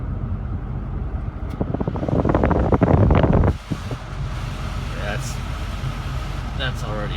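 Air conditioning fan in a 2005 Ford F250 cab blowing hard as a loud, broad rush that swells for a few seconds, then drops to a steadier, quieter hum of airflow.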